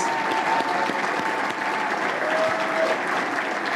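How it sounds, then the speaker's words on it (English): A breakfast-event audience applauds school staff and faculty, a broad sustained wash of many hands clapping at steady volume, with faint crowd murmur beneath. "May we give them a round of applause?"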